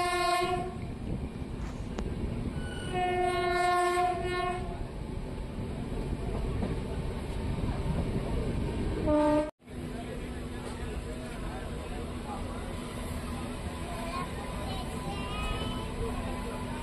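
Train rolling slowly through TK Wadi railway station near Solapur, with repeated horn blasts over a steady rumble and clatter of wheels, then a short dropout before the rolling hum continues.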